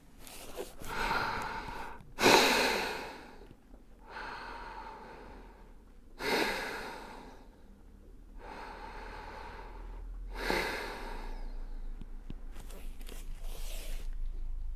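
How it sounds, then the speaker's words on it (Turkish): Polar bear breathing in a children's yoga exercise, with hands covering the mouth and nose: several slow, loud, close breaths in and out, separated by short pauses. "Parmaklarını birbirine geçirip elinle ağzını ve burnunu kapatarak nefes alıyorsun."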